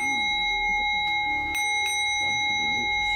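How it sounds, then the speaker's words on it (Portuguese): A gong struck to close a Japanese tea ceremony, a sustained metallic ring with steady bright tones that hang through the whole stretch, with faint soft knocks and movement beneath. "E agora, para encerrar, vamos tocar o gongo."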